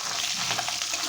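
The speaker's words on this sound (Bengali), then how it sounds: "মাছটাকে ভাজা বসিয়ে দিয়েছি।" Rohu fish, rubbed with salt and turmeric, frying in a pan: a steady, dense sizzle with fine crackling runs unbroken and close throughout, with no voices.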